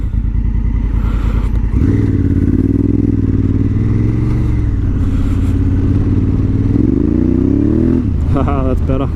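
Motorcycle riding along a gravel road with traction control switched off, a loud steady engine drone with rising and falling revs close up, tyres crunching over loose dirt, and brief talk from the rider near the end.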